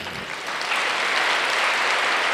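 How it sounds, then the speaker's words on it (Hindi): A seated spiritual gathering breaks into loud, sustained applause from a large crowd of listeners, a dense, steady wash of many hands clapping together without speech. "इन सबको जोर से ताली बजाएं"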